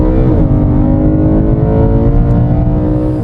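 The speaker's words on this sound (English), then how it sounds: "enjoy the sound of this V8 through that new exhaust system and with the Eventuri Plenum" BMW E92 M3 V8 revving through a new exhaust system with an Eventuri plenum, a loud, close, rich engine note climbing in pitch after a short dip, with no voices.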